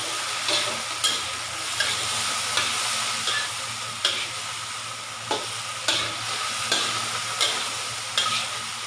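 Pork and hairy gourd frying in a pan, a continuous sizzle with regular scraping strokes of a spatula stirring the food, steady and close without talk.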